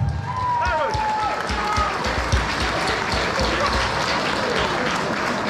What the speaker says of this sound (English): let's give both of these fighters a big, big round of applause